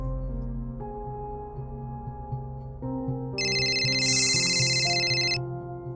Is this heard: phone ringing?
yes